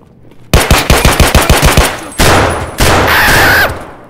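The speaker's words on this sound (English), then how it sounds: "This is one of the cheapest gun, like, pistols I can find that actually is a decent caliber to shoot" A cheap pistol fires in a rapid string of sharp, loud, close shots, then two longer, heavier bursts of gunfire follow after a short gap.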